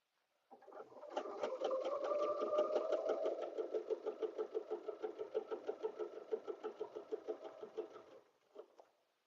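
Sewing machine stitching a quilt with spiral ruler quilting, running in a steady rapid rhythmic hum and clatter that slows into distinct pulses near the end before stopping, close and alone.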